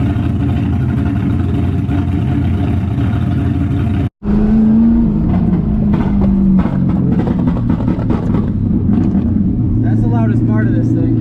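An LS-swapped Nissan 350z drift car drones loudly at close range, cuts out for a moment, then revs up and down with rough exhaust crackle toward the end.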